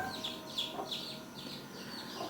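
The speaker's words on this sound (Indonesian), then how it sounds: "untuk menolong ayam yang terus berteriak-teriak minta tolong" A newly hatched chick peeps repeatedly in faint, high, rhythmic chirps while its eggshell is peeled away, with soft rustling underneath.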